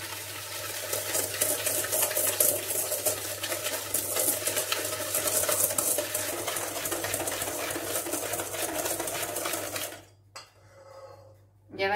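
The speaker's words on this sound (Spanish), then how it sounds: "y echamos el azúcar" Sugar is stirred into beaten egg yolks in a bowl for a brazo de gitana cream filling, a steady scraping and swishing that runs continuously before stopping abruptly near the end, with no talking.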